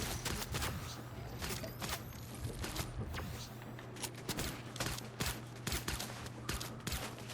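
Rapid gunfire in the video game Fortnite, a dense string of sharp shots over a steady low hum, continuous and fairly close.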